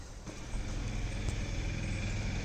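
A car pulls up at a station in New Delhi, its low engine rumble steady and fairly close, with road traffic noise around it and no talk.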